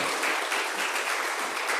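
A church congregation at a Korean Sunday service claps steadily and evenly as a greeting, a dense, continuous wash of applause with no talk.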